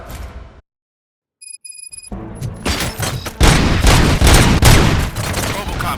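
A brief pause, then a burst of rapid gunfire erupts in the video game Robocop: Rogue City and keeps rattling loudly, with booming shots layered into a dense, chaotic barrage.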